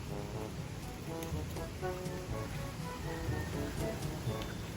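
Steady, unbroken rain pours over a small planted plot, a dense even hiss with scattered drop patter throughout, no voices.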